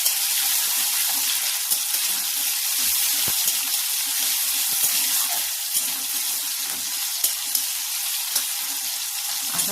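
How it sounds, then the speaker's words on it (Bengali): Chopped tomatoes and green chillies sizzle and crackle steadily in hot oil as they are stirred, a dense continuous frying hiss with occasional soft scrapes, close and fairly loud, with no talking. "কেটে রাখা টমেটো দিয়ে দেবো, কাঁচা লঙ্কা দিয়ে দেবো। ভালো করে নাড়াচাড়া করবো।"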